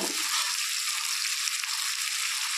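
Potato pieces fry with onions in a pan, giving a steady, bright sizzling hiss that holds evenly throughout, close up and with no voices.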